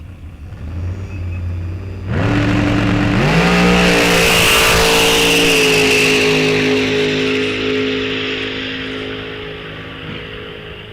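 Drag racing cars launch in the Street Eliminator final at Rock Falls Raceway during the NHRA Wisconsin State Championships, erupting from an idle into a loud, sustained roar that climbs in pitch, holds, then slowly fades.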